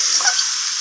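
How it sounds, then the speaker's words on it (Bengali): Spices and vegetables fry and sizzle in a pan while being stirred, giving a short, loud, continuous hiss with no voices. "সমস্ত কিছু এইভাবে মশলাপাতি নাড়াচাড়া করে সবজির সাথে কষিয়ে নেব বেশ খানিকক্ষণ ধরে"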